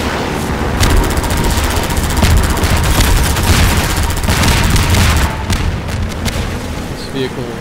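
Half-Life 2 gameplay fills with dense, loud explosions and rapid gunfire, with booming blasts and crackling bursts layered almost continuously before thinning toward the end.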